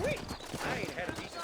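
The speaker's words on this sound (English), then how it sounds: "You ain't gonna find sturdier horses than these in all of New Albany." Sturdy horses clip-clop in a Western video game, their hoof beats close and steady under game ambience, with speech-like voices mixed in.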